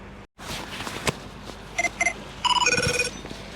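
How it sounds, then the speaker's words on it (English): A phone ringtone from the TV series 24 sounds in a workshop during a Powerscreen cone crusher repair, with a few short electronic tone bursts followed by a rapid run of bright beeping notes. "that ringtone is 24 from the series 24"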